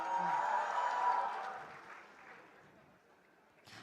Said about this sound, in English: Can we have a round cheer for pharmacy,